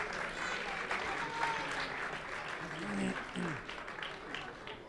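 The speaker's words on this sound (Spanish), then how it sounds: "Y un fuerte aplauso también a ambos." A crowd at a mini-sumo robot competition applauds steadily for several seconds, with voices and cheers mixed in over the clapping.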